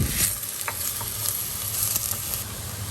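Onion and celery with garlic powder are stirred in a frying pan, a soft continuous sizzle with a few scraping taps of the utensil, close and alone with no talk.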